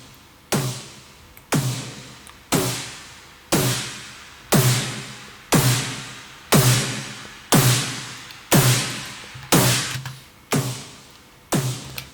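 A distorted, dirty EDM snare drum designed to sound big and fat, struck alone in a steady series of about twelve loud hits, roughly one per second, each with a sharp crack and a noisy decaying tail.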